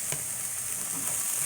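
Minced garlic, red and green peppers and mushrooms sizzle softly in a cast iron skillet, a low, even frying hiss with a faint scrape of stirring, brief and without voices.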